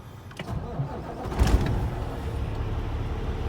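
A Cummins ISX15 diesel engine in a 2014 Kenworth W900L with an emissions fault, cycling with a brief surge in revs before settling back to a steady, low idle rumble.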